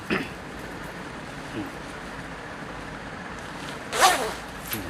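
A zipper on a Taiam CR-EP 35 motorcycle jacket, the hip-expansion zip on a women's model, gives a short zip at the start and a louder, fuller pull near the end over a faint steady background hiss.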